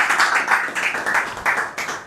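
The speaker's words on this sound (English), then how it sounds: "Can we give a round of applause again to them?" Applause from an audience at an AMMBAN pre-conference press briefing held with BuildBay: a steady wash of many hands clapping together, fairly loud and dense, with a slight swell partway through and no talk.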